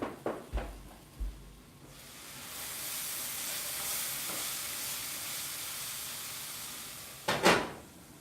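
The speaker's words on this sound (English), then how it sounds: "Let me stir." Food stirred in a pan with a few scraping clinks at the start, then a steady sizzling hiss, and a final burst of spoon scraping; no talking.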